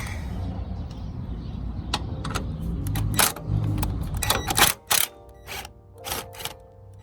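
12 mm bolts come off a car strut with a ratchet: a loose run of metallic clicks, clanks and short ratcheting bursts, close by and irregular, growing sparser toward the end.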